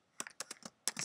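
Typing on a computer keyboard while entering a module title in a website editor, with quick close clicks in small bursts and a brief pause before a final flurry.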